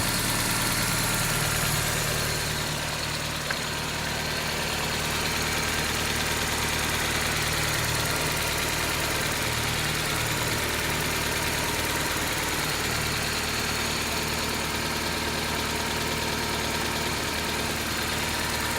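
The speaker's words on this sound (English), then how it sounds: "the engine is still happily idling right now and not stalling" A 1995 Geo Prizm engine idles steadily throughout, a low even rumble with a faint vibrating hum, close and unbroken.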